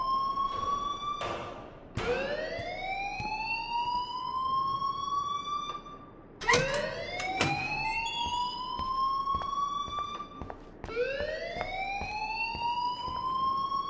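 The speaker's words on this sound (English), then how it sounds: "please turn off that alarm since that's your job" A rising, wailing electronic alarm sounds in the Life Is Strange video game, sweeping up and settling into a steady high tone, then restarting in repeated cycles, loud and alone with no talk.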